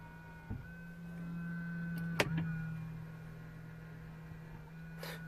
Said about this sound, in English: now I know that motor is the one that folds the mirror, because every time I press this, there's a change in the noise